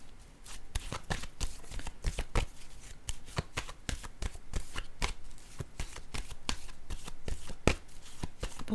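Tarot cards being shuffled by hand, a steady run of crisp riffling snaps and soft card-on-card slaps close to the microphone, continuing without pause and with no talking.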